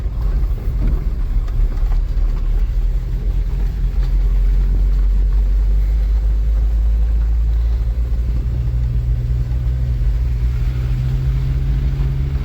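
Old car engine running rough on its first drive in 20 years, a heavy low rumble that holds steady for the whole stretch, close and loud with no talking.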